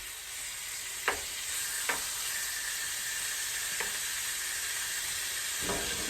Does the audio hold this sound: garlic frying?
yes